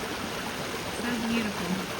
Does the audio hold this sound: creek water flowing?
yes